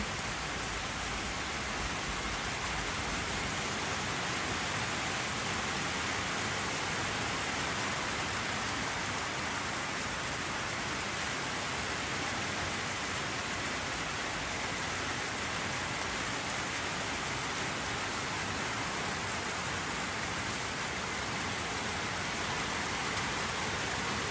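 Heavy rain falls over a village, a steady, even wash of patter and hiss that continues unbroken at moderate volume with no voices.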